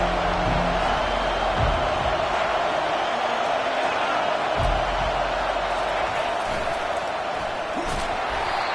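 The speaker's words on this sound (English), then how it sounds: "This crowd going to try to make life miserable for these guys." A stadium crowd at a Mizzou vs Auburn college football game keeps up a constant, dense roar, with occasional thuds and a commentator's voice faintly under the noise.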